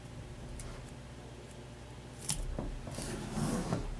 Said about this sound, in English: I love how easily our foam tape cuts with just my regular scissors